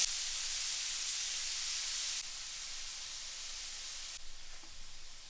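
Onions and burgers frying in a pan give a steady airy sizzle and hiss, close and even, dropping slightly in level partway through as the heat settles.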